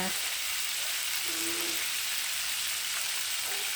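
Chicken drumsticks seasoned with black pepper fry in hot oil, a loud, dense, continuous sizzle heard up close with no break.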